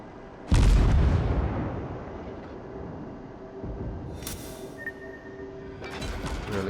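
A warship's main guns fire in World of Warships with one loud, deep boom that rolls off into a long rumble under steady engine and sea noise, followed by fainter hissing bursts later.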